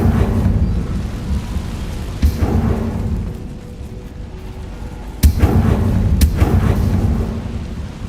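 A Confringo fire spell explodes in the video game Hogwarts Legacy: deep rumbling booms over a steady roaring bed, with sharp, heavy blasts punctuating it partway through.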